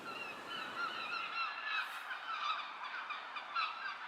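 Gulls at the coast call in a steady stream of honking, squawking cries, fairly faint and distant, with no voices.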